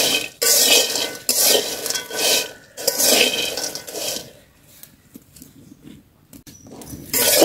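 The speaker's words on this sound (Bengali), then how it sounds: "এটা হালকা আগুনে ভাজতে পেরে" Whole cardamom pods frying over low heat in a pan, with a scraping, sizzling texture in bursts during the first half that then drops away to near quiet with faint clicks; no one talks.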